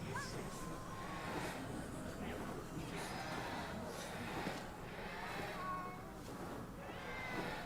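A cat gives a few faint, soft meows over a low background hum, with some quiet talk in the background.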